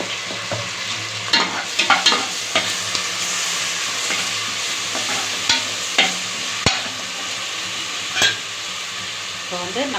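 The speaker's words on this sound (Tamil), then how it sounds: "இப்போ வந்து நம்ம இஞ்சி பூண்டு பேஸ்ட் போட்டுக்கலாம்." Ginger garlic paste frying with onions in a pan for mutton biryani: a loud, close, continuous sizzle broken by repeated scraping strokes of a stirring spoon, with no talking.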